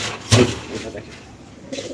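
Red Lahori pigeons at a pigeon farm give a short, close coo over a low background hum, with a brief voice nearby.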